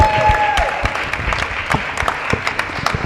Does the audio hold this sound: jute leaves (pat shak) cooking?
no